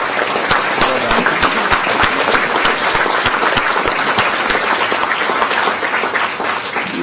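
Sustained audience applause fills a school board meeting room, dense steady clapping from many hands continuing loudly for several seconds before tapering slightly at the end.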